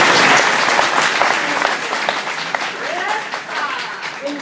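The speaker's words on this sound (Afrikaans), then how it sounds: "Poos klap handen vir Magrieta" A live audience claps for Magrieta at a book launch, a dense sustained wash of applause filling the space, with some voices mixed into the clapping.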